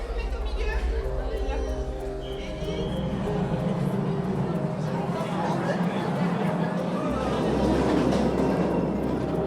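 A tourist train rumbles through the Postojna cave with a steady rolling clatter and wind noise, while people talk and chatter over it.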